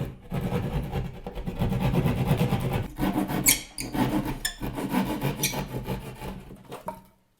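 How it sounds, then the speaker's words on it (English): A test cut into a ceiling for a bus speaker installation, heard as close, continuous rough rasping and rubbing of a blade working through the material, with brief sharp squeaks and short pauses between strokes. "I'm going to make my first little test cut right here"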